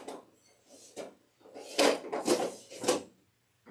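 Wooden drawers in a restaurant kitchen being pulled open and pushed shut, a series of several close, fairly loud slides and knocks with short gaps between them.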